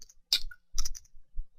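A few clicky keystrokes on a computer keyboard while entering a command, close and fairly quiet: one burst of keys, a pause, then a tighter cluster of presses and a single softer tap, with no talking.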